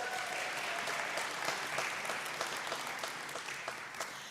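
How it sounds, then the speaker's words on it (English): Sustained applause from a congregation at a Unity of Nashville service, dense and steady clapping filling the room for several seconds, moderately loud and fading slightly toward the end. "Give her another round of applause."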